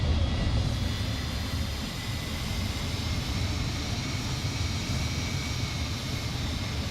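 Steady low roar of McDonnell Douglas MD-80 jet engines running in Microsoft Flight Simulator 2024, a continuous broadband rumble held at even loudness throughout, with no talk over it.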